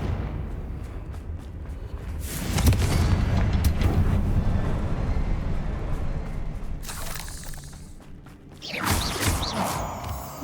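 Fiery spell blasts in Hogwarts Legacy boom out in bursts, heavy crashing explosions with rumbling tails, a couple of louder impacts spaced several seconds apart.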